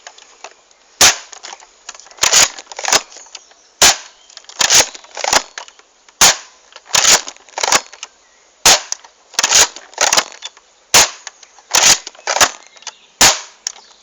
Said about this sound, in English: Okay, so that was all 6 shots.